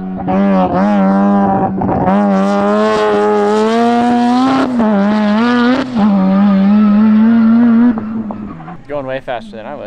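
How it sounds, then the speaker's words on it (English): A 1400-horsepower rear-wheel-drive drift car on slick tires drives fast, its engine screaming loud and close in a long sustained rev that rises and falls before easing off near the end. "It's literally a drift car with slicks on it right now."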